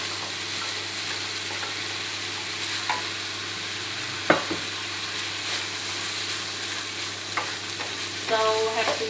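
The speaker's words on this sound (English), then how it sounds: "So now I'm stir frying my veggie and my meat around" Frozen vegetables and chicken stir fry in a pan, giving a constant hiss and sizzle with occasional scrapes and clinks of the utensil moving the food around.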